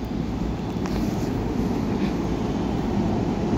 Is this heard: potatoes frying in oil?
no